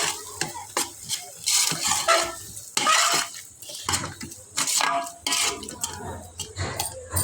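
A spoon repeatedly scrapes and clatters against a frying pan while bagara rice ingredients are stirred and fried until brown, with close, rhythmic metallic strokes and a faint sizzle underneath.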